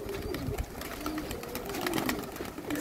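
Domestic pigeons cooing outdoors in gusting wind, soft repeated low coos running through a steady windy rush, fairly faint and a little distant, with no talk.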